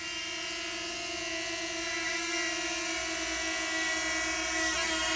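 A DJI Flip drone flies back and hovers near its takeoff spot. Its propellers give a loud, close, high-pitched whine made of layered buzzing tones that rise slightly as it nears, with no talking.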